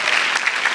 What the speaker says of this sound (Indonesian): Boleh tepuk tangan dulu buat kita semua biar semangat.